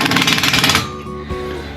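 A power driver sinks a Tapcon masonry screw while a TV wall mount is installed, a loud, close, rattling hammer-drive burst that stops abruptly after under a second, followed by a faint clunk.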